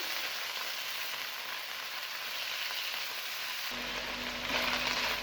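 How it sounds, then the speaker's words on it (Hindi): Chicken pieces fry in a pan for hot and sour soup, giving a continuous close hiss of sizzling oil that holds steady and grows slightly louder toward the end, with a low hum joining partway. "तो इस वजह से मैं इसको पहले फ्राई करूँगी तकरीबन 7 से 8 मिनट के लिए"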